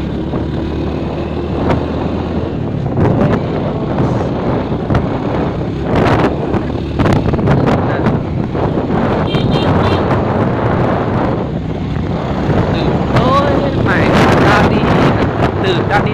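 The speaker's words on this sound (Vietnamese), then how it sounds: "đúng là mát thật nhở gió to lắm" Strong wind buffets the microphone continuously while riding outdoors near Bat Xat in Lao Cai, a loud steady roar with gusts that swell and fade, with voices and a vehicle engine under it.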